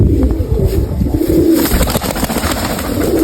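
Pigeons coo in a steady, soft, low rolling murmur, several birds close by and overlapping continuously, with no talking.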